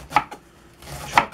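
Two crisp knife chops strike a cutting board about a second apart as leafy vegetables are cut down, close and distinct against a quiet kitchen background with no talking.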